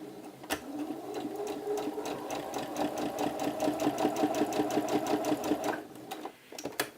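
A sewing machine runs a stay stitch with lengthened stitch and loosened tension on blouse fabric, a steady rapid mechanical chatter lasting about five seconds before stopping, close and clear with no talk.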